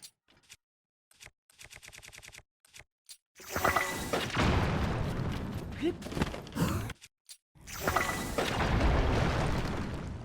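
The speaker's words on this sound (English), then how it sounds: "God, the explosions are so cool" Quick rattling bursts give way to loud, booming explosions from The Legend of Zelda: Tears of the Kingdom in rolling waves, separated by brief silent gaps.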